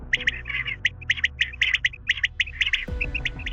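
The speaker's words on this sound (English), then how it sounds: "sound lure is a device which very loudly plays the recorded sound of a bird." An electronic sound lure used by poachers loudly plays a recorded bird call: rapid, repeated bright chirps in rhythmic bursts over a low background hum.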